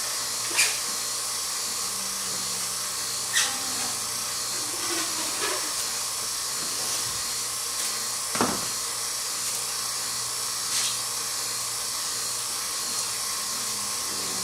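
A vacuum pump runs steadily, drawing vacuum on a composite beam layup, a continuous hissing drone with a few brief clicks and handling sounds on top, no talk.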